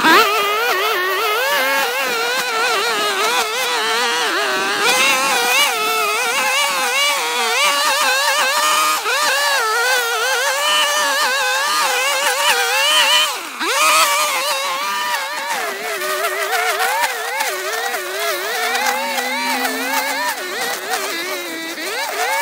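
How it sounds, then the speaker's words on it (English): A STIHL string trimmer cutting weeds in an old overgrown pet cemetery, its high engine whine running loud and steady up close, rising and dipping as the string bites into growth, with no talking. "Well, there is no quitting that STIHL, I tell you that. That thing will eat through anything until I let the string get too short."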